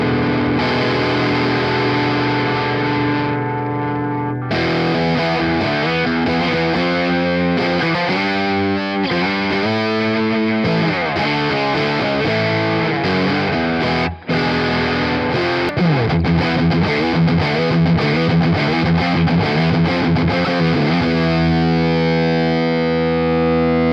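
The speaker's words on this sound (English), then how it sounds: "OCD here, which is a classic pedal that has been loved a lot throughout the years as well." An electric guitar plays through a Fulltone OCD overdrive pedal, with gritty sustained chords followed by faster picked riffs, loud and close with no talking.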